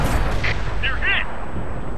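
A tank cannon booms in World of Tanks, a T1 heavy on the Karelia map, opening with a sharp blast that gives way to a continuous low rumble, with faint voices over it.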